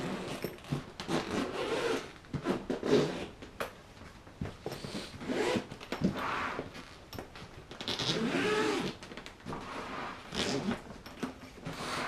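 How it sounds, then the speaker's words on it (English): The zipper on a DJI Inspire 1 drone carrying case is pulled open in long, rasping strokes. The sound is close and fairly loud, with a few brief pauses and rustles as the case is handled. "so let's unzip this."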